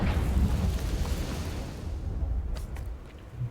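Confringo blasting spell from Hogwarts Legacy going off as a deep, rumbling explosion that fills the opening moments, then fades into a lingering low roar with a few faint crackles.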